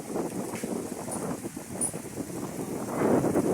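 Strong wind roars and buffets the microphone by the sea in a constant, rough rush that swells louder toward the end.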